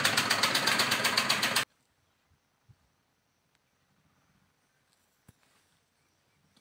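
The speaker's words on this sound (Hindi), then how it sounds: "मैं बिना चाक के लगाए ब्लाउज सिल लेती हूँ" A sewing machine stitches a blouse in a loud, rapid, steady run of needle strokes that stops abruptly after under two seconds, leaving near silence with a few faint clicks.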